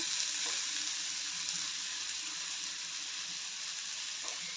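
Dry pointed gourd vegetable sizzles steadily in a pan, with a continuous bright frying hiss and faint occasional stirring, close and fairly quiet.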